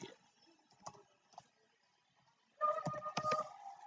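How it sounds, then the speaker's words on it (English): Typing on a computer keyboard during a live stream, heard as faint scattered key taps early on, then a louder dense burst of clicking keystrokes in the last second and a half. "I'm just typing back to my friend"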